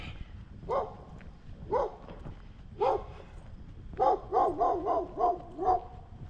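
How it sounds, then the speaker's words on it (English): A dog barks from an upstairs spot during an outdoor walk in Maine: a few spaced single barks, then a quick run of five or six barks, moderately near and clear over a low outdoor rumble. "Another doggy friend barking away at us."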